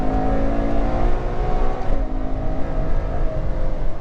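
The 800 hp V12 of a Ferrari 812 Superfast, a rear-weight-biased supercar, revs hard and close. A dense, layered howl rises and falls, dips briefly midway and then surges back.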